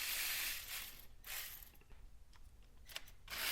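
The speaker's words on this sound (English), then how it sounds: "Here you're going to need an E10 external torque socket to remove these torque screws." Ratchet wrench turning an E10 external Torx socket to back out Torx screws on a Mercedes-Benz CLK intake manifold, giving several close, sharp bursts of clicking separated by short pauses.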